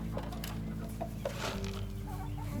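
Chickens clucking on a farm, a few short bursts of clucks scattered over a steady background hum, moderately near.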